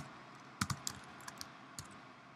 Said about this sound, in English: type in the URL for that processor, hit enter